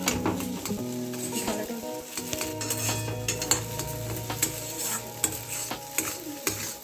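Aloo chop potato filling stirred and fried in a pan, with continuous sizzling, scraping strokes and occasional sharp clinks of a utensil against the pan.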